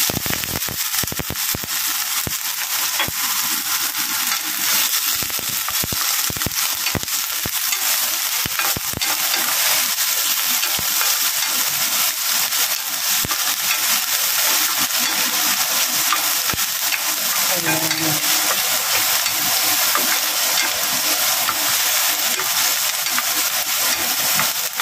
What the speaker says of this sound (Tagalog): Kalayin muna natin ang onion para mas masarap yung ating minuloto.